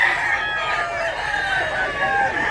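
A rooster crows loudly and close at a Cebu fowl sale, its long strained call stretching across the whole stretch with a raspy, harmonic tone.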